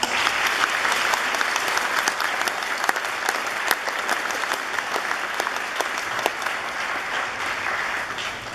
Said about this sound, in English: I would like to invite my fellow graduates to join me in a round of applause for the teachers and